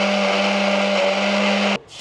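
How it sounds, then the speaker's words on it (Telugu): A mixer grinder blends cooked lentils with jaggery in a loud, steady whir that cuts off abruptly near the end. "నేను మిక్సీలో పట్టకున్నా పర్లేదు, కానీ బెల్లం పట్టాలి కాబట్టి నేను 2 కలిపి వాడుతున్నా."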